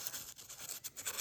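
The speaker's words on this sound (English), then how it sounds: "I'm just going to take an emery board, and you can use sandpaper" An emery board rubs along the edge of a piece of cardstock, making a soft rhythmic scratching of quick back-and-forth strokes, close and faint.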